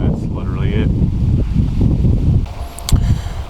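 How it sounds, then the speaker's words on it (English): Strong wind buffets the microphone outdoors beside a 2019+ Mercedes Sprinter van during a fuel filter replacement, with a constant low roar and rumbling gusts, and a person briefly talks underneath. "it's so windy, I'm sorry"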